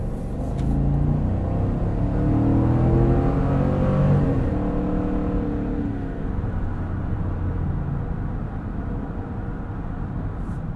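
A 2023 GMC Yukon Denali Ultimate with the 6.2-liter V8 on the road, its engine a loud, steady low rumble and whir from inside the cabin, swelling slightly early on then settling into a constant drone.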